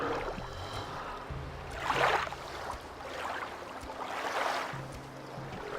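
Rolling ocean surf from the Gothic 2 game world rises and falls in three or four loud washes, set against a low, steady ambient hum.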